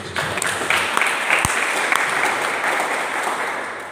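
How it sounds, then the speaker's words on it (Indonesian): A church congregation claps steadily and continuously during a worship service, a dense wash of applause filling the space with a few sharper claps standing out. "Tepuk tangan buat Tuhan"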